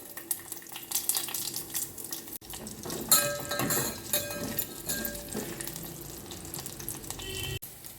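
Urad dal, cumin, mustard seeds, dried red chillies and garlic sizzle as they are tempered in hot oil. The hiss is close and steady, with crackles and pops rising and falling throughout.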